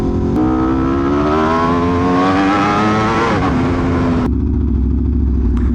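A superbike engine, refined in tone, revs steadily upward in a loud, close, sustained pitch rise before the note drops and settles into a lower idle.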